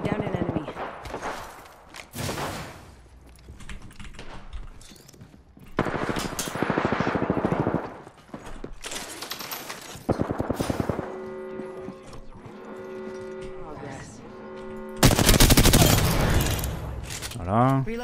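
Weapon fire in the video game Apex Legends cracks out in dense automatic bursts and single shots between quieter stretches, loud and close, with a tonal in-game sound and a speaking voice mixed in.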